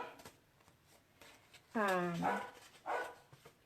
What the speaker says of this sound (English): good heavens, my dogs are naughty today.